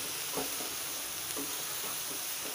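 Chopped onions fry for paneer bhurji in a pan, giving a steady, close hiss of sizzling oil with a few soft scraping stirs rising above it.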